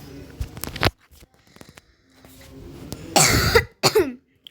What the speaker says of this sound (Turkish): Benim sürekli öksürmem arkadaşlar ya.